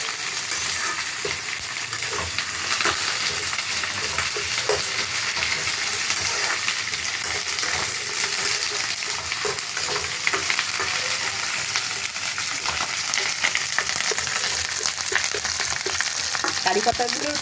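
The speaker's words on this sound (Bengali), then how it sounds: "কারি পাতাগুলো কি আওয়াজ," Fresh curry leaves sizzle and crackle in hot oil in a pan, a dense, loud, continuous frying hiss lasting the whole stretch with no voices.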